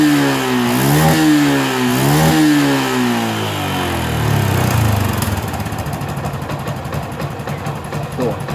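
A motorcycle with an ignition fault loses power under load as its throttle is blipped, the engine rising and falling in loud close revs before settling into a rough, uneven idle.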